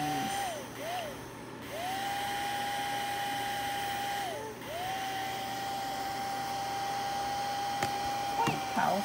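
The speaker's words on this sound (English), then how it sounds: "Powerful for mini, for mini dryer and UV light." A mini UV nail dryer hums steadily at close range, its tone dipping and recovering a few times, with faint clicks and handling noise.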